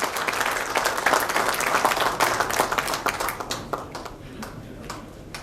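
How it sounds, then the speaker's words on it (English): Audience at an industry association's annual general meeting in Goa gives a big round of applause for the chief guest, loud and dense at first, then thinning into scattered claps toward the end. "I request the audience to please give him a big round of applause"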